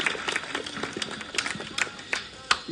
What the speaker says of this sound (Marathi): सर्वांना ते टाळ्या वाजूया दादांसाठी